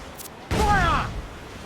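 Ship cannons firing in Assassin's Creed IV: Black Flag during a naval chase of a fleeing slaver ship: a single heavy boom bursts in after a faint sharp crack, rumbling loudly and fading over about a second, with a voice shouting through it.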